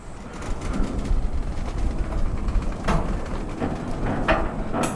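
A freight train of flat cars rolls past at Lapona Road in Tallahassee, with steady low rumbling and clanking wheels, plus occasional sharp metallic knocks over a continuous mid-level din.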